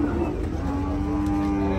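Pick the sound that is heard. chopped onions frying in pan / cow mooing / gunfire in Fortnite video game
cow mooing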